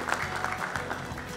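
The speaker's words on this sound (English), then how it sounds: "Please give him a huge round of applause." Applause from an audience welcoming a real estate portal speaker at a World Brokers Day event, steady dense clapping throughout, moderately loud and continuous.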